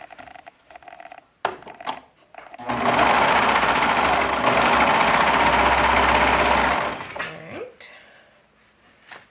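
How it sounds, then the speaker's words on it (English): A sewing machine runs steadily for about four seconds, stitching ruffle fabric together with a close, loud, rapid whir, bracketed by handling knocks and brief clicks before and after. "I'm going to sew these together."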